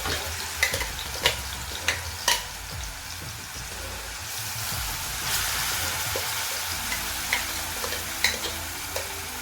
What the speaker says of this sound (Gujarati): આ તૈયાર કરેલી પેસ્ટને ઘીમાં સારી રીતના 5 મિનિટ સુધી પકાવી લઈશું